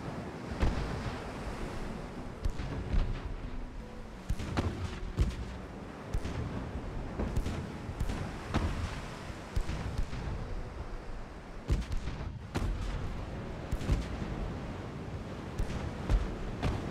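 Naval gunfire from battleships in the game Ultimate Admiral: Dreadnoughts booms repeatedly at irregular intervals over a constant roar like wind and surf, with some blasts sharper and nearer than others.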